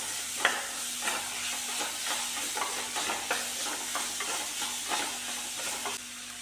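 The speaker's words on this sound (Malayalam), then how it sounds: "നന്നായി വഴറ്റിയെടുക്കാം" A pan of tomatoes and green chili sizzles steadily as they are stirred with regular scraping strokes over a low, constant hum.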